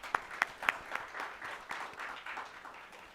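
Conference audience applauding a research officer after her presentation: a few sharp early claps grow into a soft, steady patter of clapping that stays fairly faint and distant in the hall, with no talk.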